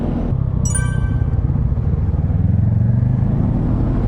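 A scooter engine purring at night with a low steady rumble under a faint wind rush, and a brief high whine near the start.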